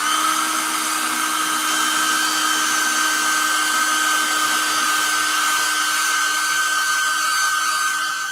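A hair dryer blows steadily and loudly at close range while drying freshly painted gifts, a constant whine with a high tone that holds without pause throughout.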